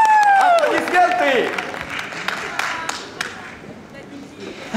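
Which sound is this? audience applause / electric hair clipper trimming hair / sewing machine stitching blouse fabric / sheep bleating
audience applause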